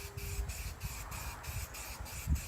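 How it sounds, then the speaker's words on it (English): Paint is sprayed in an even coat onto a surface during a shuttle bus RV conversion, coming as a steady close hiss in several short repeated bursts over a low background rumble. "Then we'll just give it a nice even coat on top."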